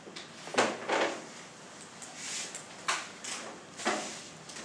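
Plastic chairs shifted about in a prayer gathering, a series of scraping knocks and rustling bumps at irregular intervals, moderately close over a hissy room background.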